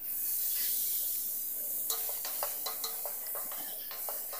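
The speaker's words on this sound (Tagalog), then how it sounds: "Ngayon gisa na rin natin yung ating kamatis." Tomatoes are sautéed in a pan for himbabao, a soft sizzle fading under a run of light stirring taps and scrapes of a utensil against the pan, close and moderately quiet, no talking.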